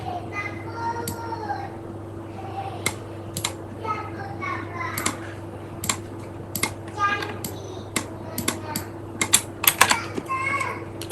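Someone types on a computer keyboard to enter database records, with quick irregular clicks and louder individual key strikes over a steady low hum while a voice talks quietly.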